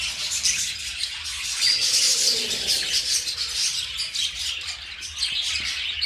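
Rainbow Australian budgerigars in a breeding setup with young chicks give a dense, continuous chatter of high chirps and tweets at close range, with no talking.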